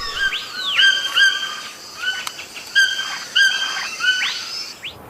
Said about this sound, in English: Maybe the toucan.